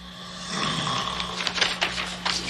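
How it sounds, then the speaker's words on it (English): A loud, rasping snore rumbles close by over a low steady hum, breathy and drawn out. "You couldn't hear anything over that snore."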